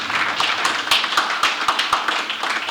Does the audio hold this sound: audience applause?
yes